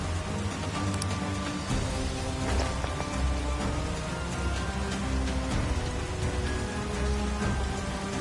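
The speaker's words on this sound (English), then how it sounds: "It just started pouring all of a sudden." Heavy rain pours steadily in the Persona 5 Strikers video game, a dense constant hiss of falling water with scattered drop impacts and faint low rumbles beneath.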